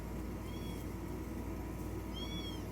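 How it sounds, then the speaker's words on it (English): A kitten named Snow, just awake from a nap, gives two short high meows close by, separated by a quiet pause over low room hum. "That's Snow if you're hearing my kitten."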